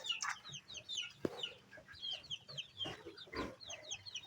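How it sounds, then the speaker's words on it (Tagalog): Chickens cluck close by on a small backyard farm where ducks are also kept, with sharp bird chirps scattered over the clucking and a brief knock partway through; no one speaks. "Manok."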